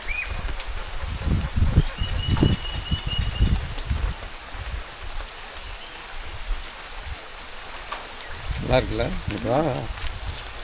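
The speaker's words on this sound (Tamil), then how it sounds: "மழை வருதுல்ல" Steady hiss of rain falling in a Western Ghats forest near a village, a soft continuous wash with bursts of low rumble and a voice speaking briefly near the start and end.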